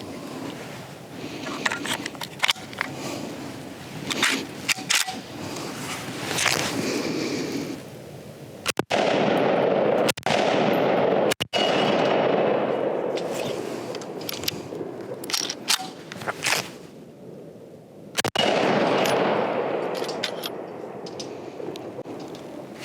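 Remington 742 semi-automatic rifle fires several shots in quick succession, each a sharp, loud crack with echo, spread across an outdoor stretch with quieter gaps between bursts.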